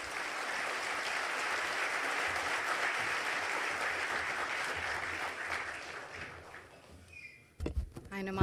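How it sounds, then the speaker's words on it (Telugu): An audience applauds after a minister's public speech, a sustained, dense clapping that fades toward the end, when a few voices and bumps come in. "ఎవరికి చేతులు ఆగట్లేదు అనుకుంటా, చప్పట్లు నడుస్తూనే ఉన్నాయి జరిగినంతసేపు"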